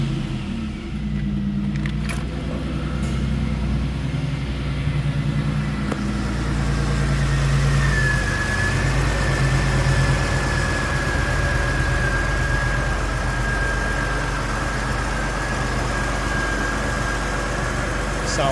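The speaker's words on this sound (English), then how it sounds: "we're gonna start the car now. It's dead cold." A 1990 Chevrolet Beretta Indy with a 3.1 V6 starts from dead cold and settles into a steady idle, a continuous low rumble with a thin whine rising partway through.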